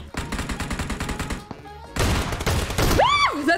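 Shotgun blasts in PUBG Mobile come as a rapid run of sharp, close reports, then a pause and heavier booming shots, and a rising and falling synthetic tone at the end.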